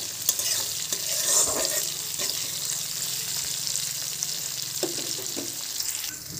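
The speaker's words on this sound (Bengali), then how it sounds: "এটাকে ভালোভাবে চিংড়ি মাছটা আমি লাল লাল করে ভেজে নেব" Shrimp fry in hot oil in a pan, giving a continuous close sizzle with scattered scraping and clinking as they are stirred.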